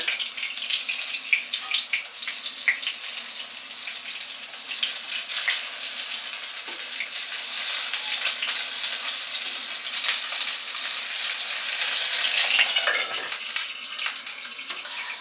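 Cooking oil splatters and crackles while food fries in a home kitchen, a steady, loud hiss with sharp popping spits that swells midway and continues throughout.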